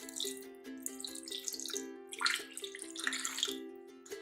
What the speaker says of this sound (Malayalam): ഇനി നമുക്ക് ഇതിലേക്ക് 1 കപ്പ് വെള്ളം ചേർത്ത് കൊടുക്കാം